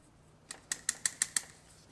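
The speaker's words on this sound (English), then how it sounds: "So we're going to cut all the extra wire off." Extra wire cut off with cutters during a Yale forklift repair, a quick run of six sharp snips or clicks in even succession, close and crisp over a quiet background.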